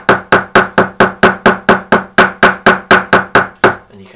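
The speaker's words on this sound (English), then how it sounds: "So basically just give that a tap then." A cobbler's hammer taps the edge of a leather binding about fifteen times in a steady, even rhythm, each hit sharp and close, the tapping stopping just before the end.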